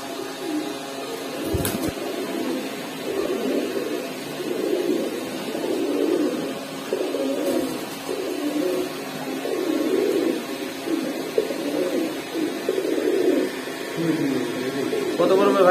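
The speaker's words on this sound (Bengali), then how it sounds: "এখানে একজোড়া ভাই গোল মাথার কালদম কবুতর আছে।" Round-headed Kaldam pigeons, a pair kept at a market stall, coo steadily and softly in a continuous low burble, with background market noise and people talking nearby.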